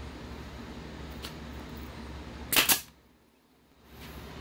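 A nail gun drives nails into a furniture panel with a quick double crack, sharp and close, following a faint earlier tap and giving way to a brief quiet.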